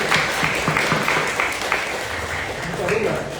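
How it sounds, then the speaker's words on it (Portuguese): An audience claps for Chico Xavier at a spiritist lecture, loud continuous applause from a room full of people, with some voices mixed in. "Vamos dar uma salva de palmas para Chico Xavier."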